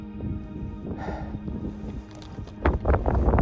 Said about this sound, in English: So it's really windy again.